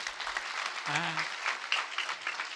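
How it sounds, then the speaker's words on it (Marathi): Crowd applause at a devotional religious gathering, steady dense clapping that fills the whole stretch, loud and close, with a brief voice rising through it partway. "अरे टाळी एकदा त्यांच्याकरता."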